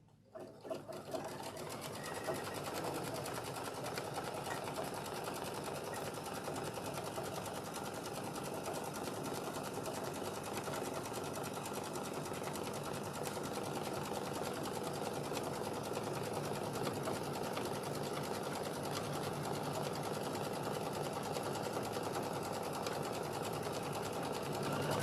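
A sewing machine runs steadily and unbroken, tacking down fabric for a sewing room project bag, its fast even needle rhythm close and constant throughout with no talking.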